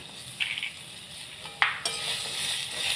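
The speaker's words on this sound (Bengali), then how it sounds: "পেঁয়াজগুলোকে একটু নাড়াচাড়া করে নেব" Sliced onions are stirred in a frying pan with already-fried chicken, giving a quiet, steady sizzle broken by a few sharp scrapes and clinks of the spatula against the pan.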